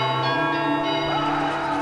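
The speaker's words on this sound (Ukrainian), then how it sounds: "Коли почався Євромайдан, монастирські дзвони били день і ніч." Monastery church bells ringing, a dense, sustained wash of overlapping metallic tones holding loud and steady throughout, with no voices.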